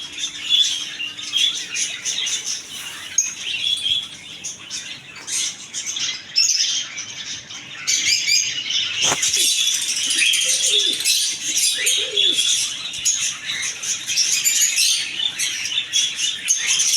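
Budgerigars chirp and squawk continuously in a crowded bird shop, a dense bright chatter of many small birds with a brief sharp rattle midway and no speech.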